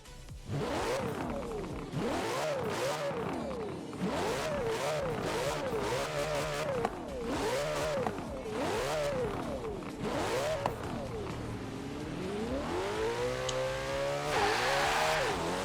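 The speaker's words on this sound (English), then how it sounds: "So let's hear the car for a bit." A Ferrari 488 GTB engine in the video game Forza Horizon 4 revs up and down repeatedly, rising and falling in pitch through gear changes, loud and close, with a brief tire squeal near the end.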